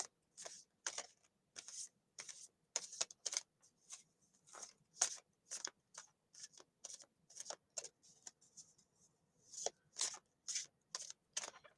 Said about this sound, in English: Do you know how I shuffle it?